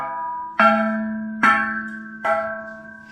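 Top halves of studio speaker stands are struck and ring like a bell: three distinct clangs, each followed by a sustained, slowly decaying metallic tone, close and clear with no talking.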